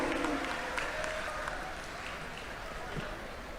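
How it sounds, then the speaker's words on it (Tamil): Steady applause from a crowd at an awards ceremony, a dense patter of clapping heard at a moderate distance, fading slightly toward the end. "நல்ல ஒரு சிறப்பான கைத்தட்டலை எழுப்புமாறு மிக அன்போடு கேட்டுக்கொள்கின்றோம்"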